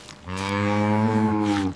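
A single cow moos in one long, steady, low call lasting well over a second, loud and close, with nothing else heard around it.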